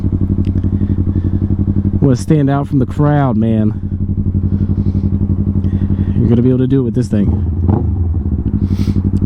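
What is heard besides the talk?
Yamaha R3 motorcycle with Akrapovic full system exhaust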